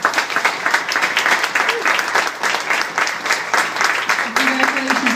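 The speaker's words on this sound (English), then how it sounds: "could you all give me a join in a round of applause" Steady applause from an audience after a formal announcement speech, dense overlapping clapping that stays loud and even throughout, with faint voices underneath.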